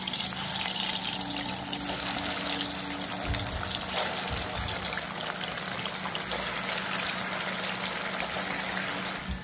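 Four hundred grams of paneer fry lightly in oil in a pan, giving a dense, constant sizzling hiss. It stays loud and even for the whole stretch, with no talking over it.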